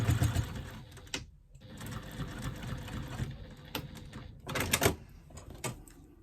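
A sewing machine stitches across the open ends of a fabric strap looped through a D-ring on a wristlet bag, a steady close whirring run broken by short pauses.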